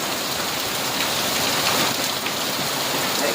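Heavy hailstorm with large hail in Nea Vyssa, Evros, a dense, continuous hiss and patter of hailstones striking surfaces, loud and unbroken throughout with no voices.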